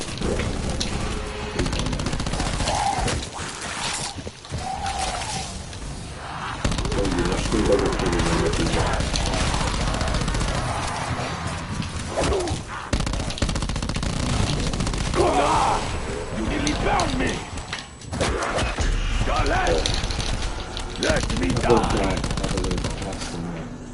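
Dense, continuous automatic gunfire and explosions from a Call of Duty first-person shooter, loud bursts running almost nonstop with brief gaps, a player's voice occasionally mixed in.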